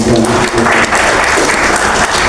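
An audience at a Christmas celebration held in a government office building bursts into loud, sustained applause, close and continuous with a few voices under it.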